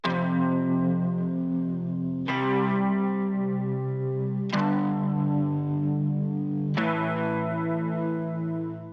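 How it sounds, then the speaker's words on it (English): Four heavily distorted electric guitar power chords, each struck and held for about two seconds, loud and sustained with a chorus-like shimmer. "Which is just power chords on the guitar"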